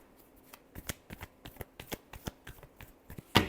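Tarot cards being shuffled by hand, a quick run of close, crisp riffling snaps with a sharper burst at the end and no talking.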